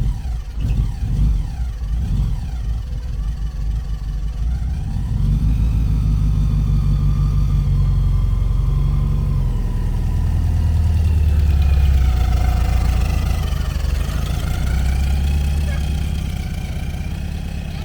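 An air-cooled Volkswagen engine runs steadily, a strong low rumble with some revving near the start, then settling into a continuous idle close by, with no voices over it.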